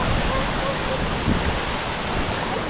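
Steady broadband roar of Tinuy-an Falls in Bislig City, Surigao del Sur, Philippines, loud and constant with a windy hiss from wind made by the falling water, no distinct events standing out.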